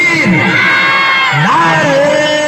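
A large crowd at a religious gathering shouts back a slogan in unison, loud and close, with overlapping voices and yells swelling and falling.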